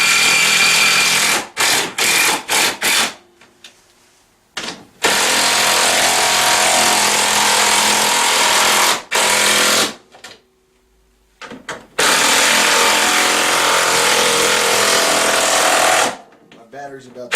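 Power tool tightening bolts on a Tao Tao CY150A scooter rear rack, loud sustained whirring bursts broken by short pauses, close to the listener, with someone talking between runs.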